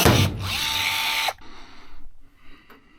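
Pneumatic rivet puller pulling a rivet on airplane wing skins, a loud close whirring hiss that rises in pitch for about a second and ends abruptly, then fainter workshop clatter.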